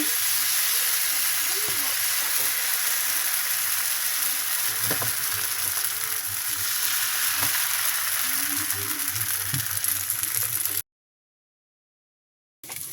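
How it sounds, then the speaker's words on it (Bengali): Chita roti pitha batter frying in a pan, a steady close sizzle and hiss with occasional soft scraping, running continuously before cutting to silence near the end. "এখন আমি ছিটা রুটি পিঠা বানাচ্ছি, আমি প্যানে দিয়ে দিচ্ছি"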